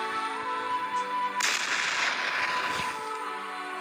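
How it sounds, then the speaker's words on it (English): An explosion sound effect applied in video editing software bursts in abruptly, holding as a loud, noisy roar for about a second and a half over a steady underlying tone before cutting off. "go to effect, choose explosion"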